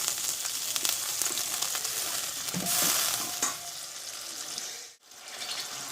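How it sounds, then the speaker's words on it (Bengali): Water is splashed into a pan of fried ginger and tomato cooked down to a paste, giving a loud steady sizzle that swells into a brighter hiss midway and then drops out briefly before resuming. "এবার এখানে অল্প আমি একটু জল দেবো"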